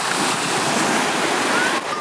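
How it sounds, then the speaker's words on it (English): Strong wind roars across the microphone at a Hawaii beach at sunset, with surf crashing beneath it in a constant loud rush and a slight dip near the end. "It's so windy. I don't even know if you guys can hear me."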